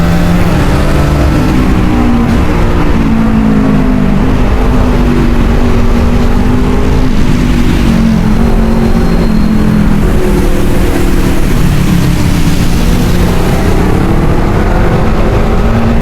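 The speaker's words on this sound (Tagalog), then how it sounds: "meron ako naririnig na umuugong na motor" A motorcycle engine roars continuously in a loud, steady drone with slight shifts in pitch as it revs, heard up close and without pause.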